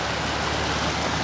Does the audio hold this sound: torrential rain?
yes